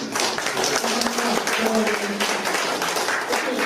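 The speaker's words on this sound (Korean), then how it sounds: "그 교수님 오랜만에 좋은 그 강의 주신 다시 한번 큰 박수 한번" Audience applause at a Korean business breakfast lecture forum, following a professor's talk; sustained dense clapping from a roomful of people, steady and fairly loud throughout, with a voice speaking faintly underneath.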